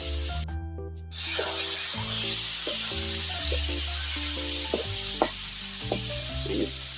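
Spice paste sizzling and frying in a hot pan, a steady loud hiss with occasional stirring clinks, no voices.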